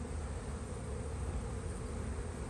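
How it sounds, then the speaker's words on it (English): Honey bees hum in a dense, steady buzz from inside a jam-packed spring hive's brood box, close and continuous with no talk over it. "as calm as these bees are, we're down in the brood box"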